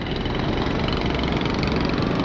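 An old classic Honda motorcycle engine runs steadily at idle, a close, continuous mechanical chug throughout with no talking.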